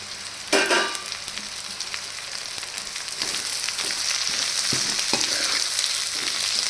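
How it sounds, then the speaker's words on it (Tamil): Onions with drumstick leaves frying in a pan for an egg poriyal, a steady broadband sizzle throughout with a sharp stir or clatter near the start and a few soft scrapes later. "வெங்காயம் நல்லா வதங்கினதும் இதில் முருங்கைக்கீரை சேர்த்துக்கோங்க"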